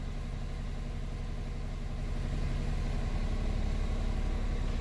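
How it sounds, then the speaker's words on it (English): A Smart Fortwo engine idling just after starting with a newly programmed key, a steady low rumble heard close and unchanging throughout. "the key just started the vehicle"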